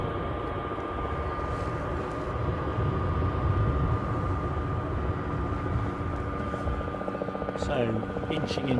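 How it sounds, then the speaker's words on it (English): A Bell JetRanger helicopter passes overhead near an airport, a steady loud rotor and engine drone filling the scene throughout, with voices talking over it. "Overhead, our chopper friend, the Bell Jet Ranger, keeps overflying us"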